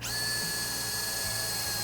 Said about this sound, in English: Woo, nothing like brand new drill bits.